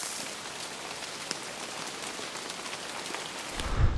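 Hail and rain pour down during a storm on a forested mountain pass in the southern Balkans near Bitola, a steady dense patter and hiss with no talk, swelling to a heavier rush at the end.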